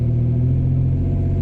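A short bed sport truck's engine pulls hard through a gear, a loud steady mid-pitched drone with a slight rise heard from inside the cab.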